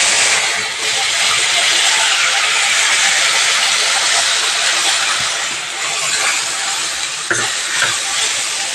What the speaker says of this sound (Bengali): যে মশলার পেস্টটা তৈরি করে রেখেছিলাম মশলাটা দিয়ে দিচ্ছি।